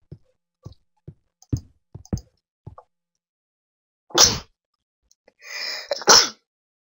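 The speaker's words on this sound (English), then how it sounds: "Sorry, just did a sneeze." A person sneezes twice, loud and close to the microphone, after a run of light clicks while playing Minecraft, with a short breath between the two bursts.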